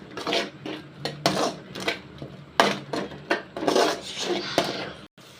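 Metal utensil scraping and clanking against a pan while frying egg with noodles, repeated rhythmic stirring strokes close up with short pauses between them, no talking over it.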